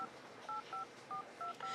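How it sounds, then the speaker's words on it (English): Six short two-tone keypad beeps ring out in an uneven rhythm as a cell phone number is dialed in a video game, clear over a quiet hiss. "She picks up her cell phone and dials numbers from one of the potential investors."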